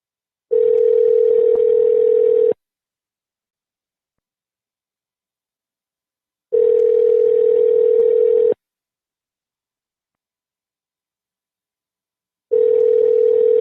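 Telephone ringback tone on an unanswered call, three identical two-second buzzing bursts separated by long silent gaps, loud and alone.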